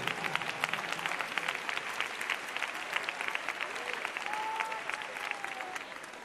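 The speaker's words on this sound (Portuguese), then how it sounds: "Podem glorificar ao Senhor com uma salva de palmas bem forte" A church congregation claps loudly and steadily throughout, a dense, even wash of many hands in a large worship space, with a faint voice rising briefly near the end.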